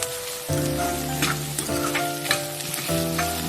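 Thinly sliced onions sizzle steadily in a pan, a close, continuous crackle broken by a few stirring scrapes and soft knocks.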